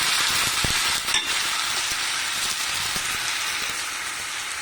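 Chopped tomato pieces hitting hot oil in a pan after onions, giving a steady bright sizzle with a few soft knocks near the start, close and moderately quiet with no voices.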